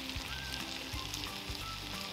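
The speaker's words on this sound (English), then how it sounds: "let's go ahead and add our sauce in" Sauce poured into a hot Philly cheesesteak skillet sets off a loud, steady sizzle, with repeated low thumps and scrapes of the pan running underneath.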